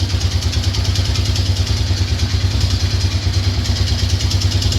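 A lawn tractor engine idling with an abnormal noise, loud and close, with a steady rapid pulsing throb and a rhythmic clattering running throughout.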